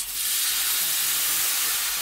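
A steady, close hiss of a fresh coconut mixture boiling in a pot, even and unbroken with no voices.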